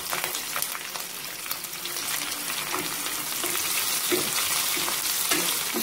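Small onions sautéing in a pan with curry leaves and chillies for a dried-fish curry, a continuous crackling sizzle with occasional stirring scrapes, close and steady, with no talk.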